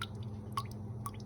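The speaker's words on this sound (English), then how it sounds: "I'm gonna add a little bit of cold water." Cold water drips into a bowl of freshly whisked eggs in a home kitchen, two soft, separate drops landing about half a second apart over a low steady hum.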